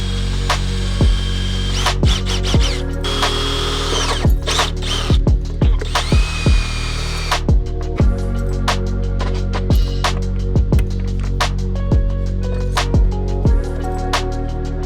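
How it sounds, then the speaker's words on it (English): A loud power drill whines in repeated short bursts, its pitch rising and falling as the trigger is squeezed and released, with occasional clicks between. "we'll have to drill a hole outside"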